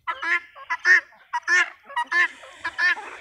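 Ducks and chickens at a local poultry farm in Sirajuli, Assam, giving a rapid series of loud, close, nasal honking calls in quick bursts, with no talk over them.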